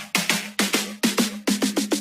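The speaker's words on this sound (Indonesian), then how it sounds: "Terus di bagian ini ada floating loop" A floating loop from an FL Studio track: a repeating electronic phrase of bright, plucky hits over a steady low tone, eleven or so evenly spaced attacks in a bouncing rhythm, loud and close with no voices.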